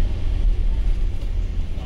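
Low, steady engine rumble inside a bus carrying passengers to a Shiva temple near Srisailam, a continuous near drone with faint road noise and no talk.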